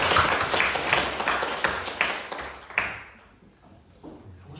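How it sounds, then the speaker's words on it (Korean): A church congregation at a joint Korean worship service claps, a few seconds of scattered, fairly close hand claps with distinct individual strikes, fading out into quiet room tone. "박수 한번 하실까요?"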